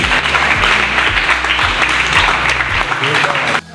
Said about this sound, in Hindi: पुनः सभी का अभिनंदन के लिए एक बार जोरदार तालियां